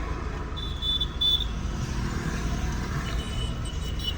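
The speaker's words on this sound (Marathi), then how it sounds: "बघू शकता ही स्कॉर्पिओ आपण चालवतोय" Interior of a moving Mahindra Scorpio N, a steady low engine and road rumble throughout with a faint higher tone, fairly quiet and without talk.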